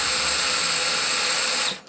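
A drill bit bores steadily through 1/4 inch thick steel with a loud, continuous high-pitched whine that cuts off abruptly at the end.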